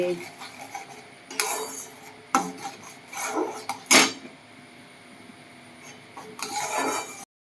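A utensil scrapes and rubs spices with salt and turmeric in a pan, coming in irregular rasping bursts with a few sharper knocks and quieter pauses in between.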